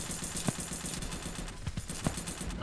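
Rapid gunfire in a chaotic first-person shooter video game, a quick run of sharp shots with a few louder cracks standing out, no talking.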